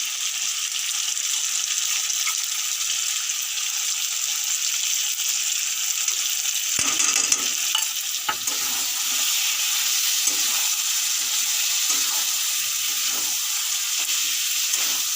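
Chicken with a spiced yogurt masala paste of sour curd, turmeric and chili powder for chicken kosha fries in a pan, a steady close sizzle and hiss throughout with a brief clatter of stirring midway.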